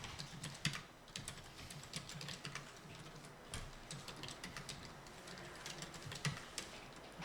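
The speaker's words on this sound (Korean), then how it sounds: "저는 탭을 눌러서 이동하는 편이에요." Quick, steady typing on a computer keyboard, including presses of the tab key, a close and fairly quiet run of light plastic clicks and taps with no one speaking.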